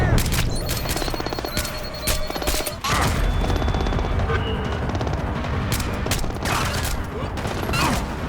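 Dense, rapid gunfire in Splinter Cell Blacklist, with bursts of automatic shots and booms sounding loud and continuous throughout.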